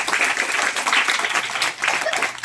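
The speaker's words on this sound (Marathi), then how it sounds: "आज आपण ज्ञानेश्वर महाराज मेडगुले यांचा शाळेच्या वतीने टाळ्या वाजून स्वागत करूया" A school audience applauds to welcome a visiting speaker, a steady, full wash of many hands clapping together throughout, fairly close and even in loudness.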